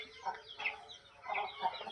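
Chickens of an aggressive breed clucking in short bursts at moderate distance, several calls spaced across two seconds over a low background murmur.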